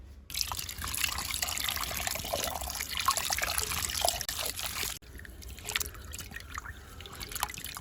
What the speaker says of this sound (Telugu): ఇప్పుడు మనం కట్ చేసిన తర్వాత ఇది బాగా వాష్ చేద్దాం